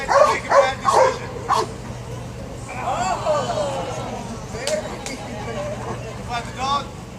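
A police dog barks and yips in short bursts, then whimpers and whines, close by, with people talking and background chatter around it.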